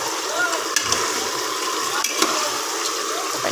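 Chicken and small potato pieces frying in hot oil in a pot on low flame, a steady close sizzle with occasional scrapes and clinks of stirring.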